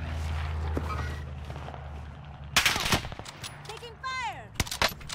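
Incoming gunfire in Call of Duty Warzone, with a steady low rumble then a loud cluster of rapid shots and sharp whizzing passes near the end, close and intense, with no voices over it.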